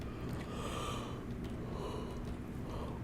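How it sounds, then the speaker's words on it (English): A tired truck driver character in American Truck Simulator lets out a long breathy yawn, a drawn-out airy gasp that rises and fades twice over steady low engine hum. "Which I could hear based on the constant yawns."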